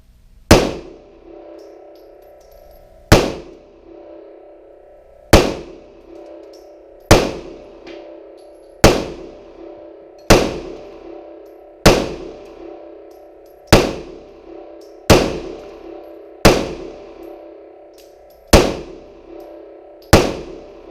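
A Smith and Wesson M&P Compact 3.6 pistol fires twelve loud, sharp shots, each followed by a short ringing decay. They come at a steady pace about every one and a half to two seconds, with no talking between them.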